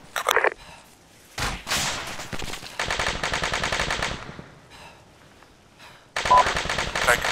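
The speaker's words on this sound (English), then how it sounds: "Taking fire." Heavy automatic gunfire in an Arma 3 firefight near a helipad, loud bursts of rapid shots broken by short pauses, with thuds and a voice over the shooting.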